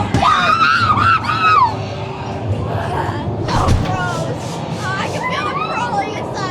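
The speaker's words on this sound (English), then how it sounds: "Stop screaming at me." Visitors inside a haunted house attraction let out loud, shrill screams and yells, several voices overlapping in bursts over a noisy, echoing background.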